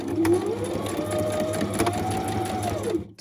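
A domestic sewing machine runs a straight or zigzag stitch on small fabric scraps, a loud, close, continuous whirring hum with a rising motor whine, stopping abruptly at the end.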